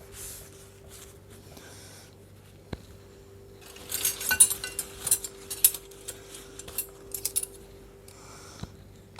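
Metal spoon and fork clinking as they are set down at a sahur table, a flurry of bright light clinks and taps in the middle, fairly close and quiet.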